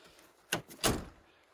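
A Peterbilt truck door is worked at close range: two quick thunks, a sharper latch click followed by a heavier shut, with quiet surroundings and no talking.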